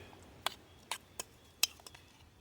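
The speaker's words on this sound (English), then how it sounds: "Stir that mixture together" A spoon stirs potatoes and water in a metal mess kit pot, giving a few sharp, distinct metallic clinks spaced unevenly over a quiet background.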